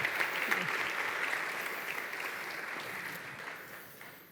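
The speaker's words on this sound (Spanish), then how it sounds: "No sé si te han aplaudido más que a mí" An audience applauds at a book presentation, giving steady sustained clapping from a room full of people that slowly fades over a few seconds.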